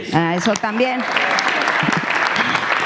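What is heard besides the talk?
audience applause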